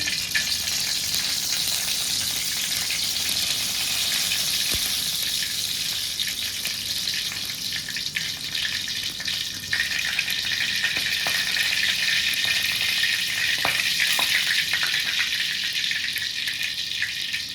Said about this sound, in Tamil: எண்ணெய் கம்மியாக சேர்த்துக்கலாங்க தாளிச்சு ஒரு அரிசி மிளகு சீரகம் போட்டுக்கலாங்க